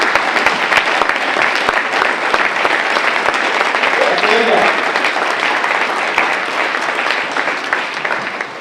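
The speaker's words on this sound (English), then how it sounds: "Kellogg, give them a round of applause." A room full of luncheon guests gives a sustained round of applause at a university Founders Day event, dense steady clapping that holds loud for the whole stretch and eases slightly at the end.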